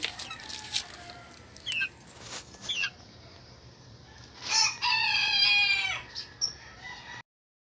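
Sebright chickens in their coop cluck in short bursts, and then a rooster crows loudly and close by, with a few more clucks after it.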